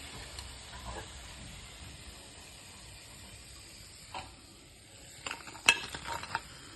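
Soy-leaf lentil fritters frying in oil, a faint low hiss and sizzle under scattered clinks and scraping of a utensil against the pan, louder toward the end.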